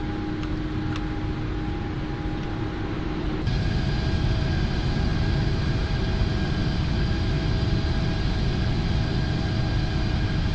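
A PMDG 777F AeroLogic freighter jet climbs out of Leipzig after takeoff in the P3D flight simulator, its engines giving a constant loud roar that steps up and grows fuller partway through.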